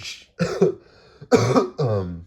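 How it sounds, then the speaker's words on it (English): A person coughs several times in short, raspy bursts, close and fairly loud, with a throat-clearing sound among them. "I'm coughing so much"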